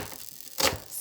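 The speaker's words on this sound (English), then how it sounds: "Then again turn the onion round and do more chopping." A kitchen knife chops through an onion on a cutting board in a single crisp, close chop after a brief quiet moment.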